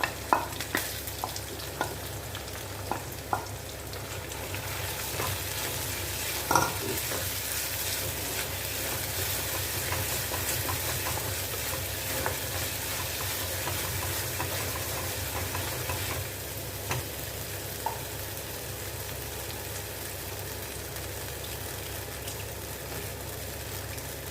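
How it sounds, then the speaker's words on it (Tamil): Okra sautéing in a pan for a Kambam-style vendakkai kuzhambu gives a continuous, even sizzle and frying hiss, broken by a few light stirring clicks and scrapes, with no voices. "இப்போ பாருங்கள் வெண்டைக்காய் நல்லா வதங்கிட்டு"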